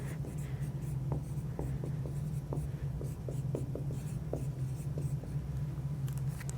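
A pen scratches across paper in short strokes and brief scribbles, close and crisp, over a low steady room hum during a microbiology lab session.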